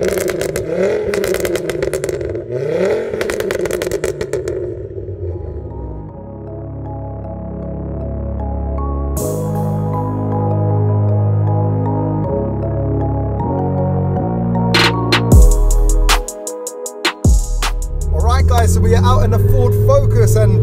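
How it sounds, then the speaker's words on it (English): Stage 4 Ford Focus RS five-cylinder pulling hard through the gears, loud rising engine tones with clear shift breaks and a sharp lift-off near the end, with voices briefly at the start and close. "it's a five cylinder sound, isn't it?"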